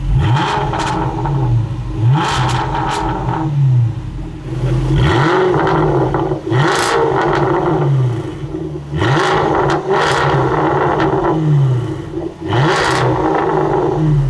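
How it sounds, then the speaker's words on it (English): Car engine with variable exhaust valves opened, revved repeatedly while stationary: five or six sharp throttle blips rise and fall in a rough rhythm over a steady idle, loud and close, with no talking. "So double press of this, and it opens up the exhaust valves. And just listen to this."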